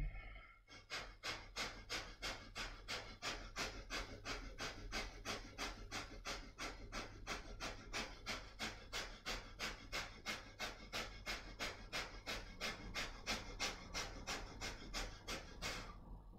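Kundalini yoga breath of fire: fast, forceful rhythmic breathing through the nose, about two sharp huffs per second, steady and close for roughly fifteen seconds with no talking.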